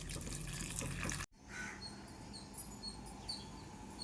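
Tamarind, a lump about the size of a large lemon, being washed and soaked in water in a kitchen: running water and splashing, with a brief abrupt break, then quieter trickling and drips, close and without talk.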